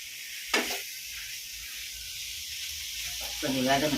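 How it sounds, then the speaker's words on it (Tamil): Prawn biryani masala sizzles in ghee with coriander, mint, cinnamon, cloves and cardamom, giving a steady close hiss with a louder burst early on and a brief voice near the end. "கொஞ்சம் வதங்கட்டும்."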